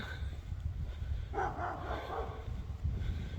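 Two dogs at a neighbor's place bark a few times in a short burst during an outdoor morning hike, moderately distant and fairly faint against wind and ambient noise.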